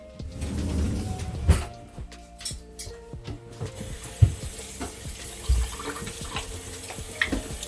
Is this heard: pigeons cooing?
no